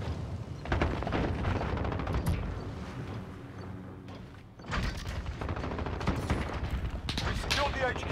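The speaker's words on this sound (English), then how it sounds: "Cruise missile, go for launch" Call of Duty Modern Warfare multiplayer Headquarters match with a cruise missile launching amid continuous gunfire, heavy booms and rumbling explosions. The dense mix shows sharp bursts over a sustained roar, and game voice announcements are heard.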